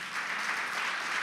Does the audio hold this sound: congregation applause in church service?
yes